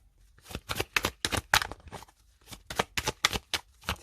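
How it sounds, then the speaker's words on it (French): Tarot cards are riffled and slapped down in quick bursts, crisp flicks coming in two clusters with short gaps between, close and clear, with no talking. "Je vais remettre une carte là-dessus."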